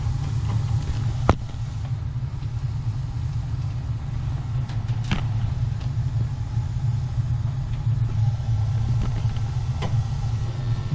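Slant/Fin gas boiler burner rumbling steadily during gas adjustment, a loud continuous low roar with a few faint clicks and ticks on top.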